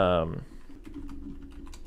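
Someone types on a computer keyboard in a quick, irregular patter of light clicks just after a brief voice.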